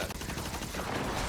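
Video game gunfire in The Gathering Horde: a short, dense burst of shots running continuously and loudly for just over a second, with no pauses between reports.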